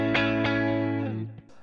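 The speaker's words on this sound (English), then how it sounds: "Here is the clean sound." Clean electric guitar through a Kemper amp loaded with a Fender Deluxe Reverb profile, two strummed chords ringing out with rich harmonics and then decaying, ending in a short muted pluck.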